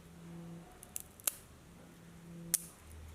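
Scissors snipping the edges of a craft pencil made from sticks, two sharp distinct cuts with a small click before them, close and clear against a quiet room.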